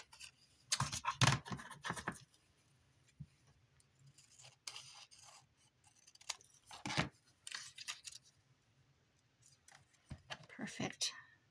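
Scissors snip through paper to trim it down, a few short crisp cuts in quick bursts, with a voice speaking between them.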